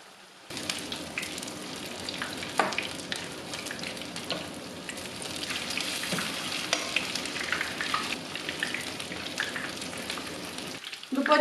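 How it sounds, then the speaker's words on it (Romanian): Soy schnitzels coated in a sesame batter sizzle in hot oil, a dense crackling, popping fry that starts abruptly and holds steady and fairly loud close by. "Prăjim bine bucățile pe ambele părți."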